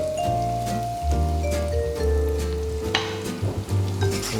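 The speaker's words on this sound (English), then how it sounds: "I'm going to slowly cook that garlic off." Garlic sizzles steadily in oil in a pan over medium-high heat, with a continuous close crackle and occasional stirring clatter, no voices.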